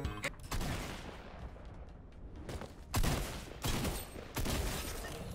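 Fortnite gunfire in a match, bursts of shots and volleys, some fairly close and loud, separated by short lulls, with no talking.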